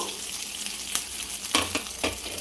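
Leftover idli pieces drop into a hot oiled pan and fry with a steady sizzle, punctuated by a few sharper crackles and stirring scrapes, close up.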